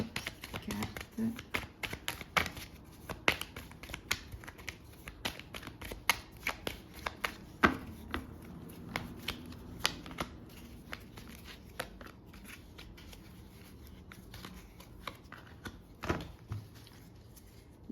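Small cards are shuffled and handled in a series of quick crisp riffles and flicks, close and fairly soft, with a voice talking over them.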